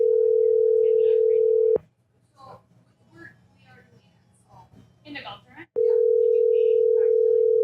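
A telephone call rings out with a loud steady electronic tone, breaks off for a few seconds while someone speaks quietly, then resumes.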